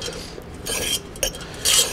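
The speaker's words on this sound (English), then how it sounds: "now to continue to fluff it and mix it up" A utensil fluffing and mixing warm couscous in a bowl, giving soft scraping and light clinking strokes in a few quick bursts, close and clear, with no talking.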